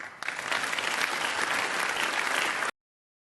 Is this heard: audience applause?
yes